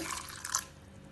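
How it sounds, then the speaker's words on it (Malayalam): A short splash of water poured into a mixer jar holding grated coconut and cumin, a brief close trickle that fades quickly. "അരക്കാൻ വേണ്ടുന്ന കുറച്ച് വെള്ളം കൂടെ ഒഴിച്ച്"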